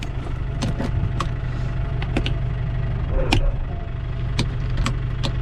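A tractor engine idles steadily nearby with a low continuous rumble, while faint clicks and taps sound over it.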